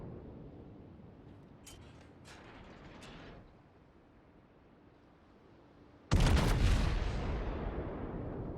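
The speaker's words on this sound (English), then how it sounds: "Guns fired that before the turret was fully turned." A World of Warships Montana battleship's big guns fire in a single heavy, loud blast with a long rolling roar, after a quieter stretch of faint mechanical clicks and ambient hum.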